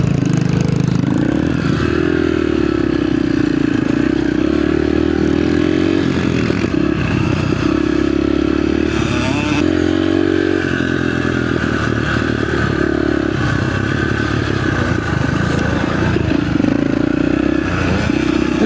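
A 65cc mini dirt bike is ridden on a track, its small engine buzzing and revving steadily at close range throughout, with clattering and scraping over the terrain.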